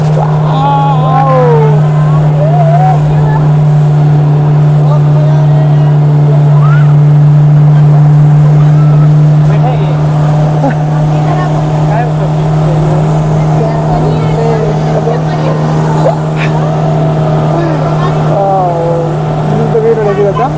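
A small motorboat on Patratu Lake in Jharkhand drones steadily and loudly with a low engine hum, and water rushes past while voices talk over it.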